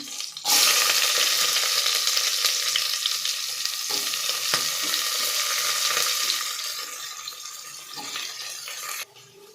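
Green chili and onion sizzle loudly and continuously in a hot pan, with occasional stirring scrapes, the frying easing slightly toward the end.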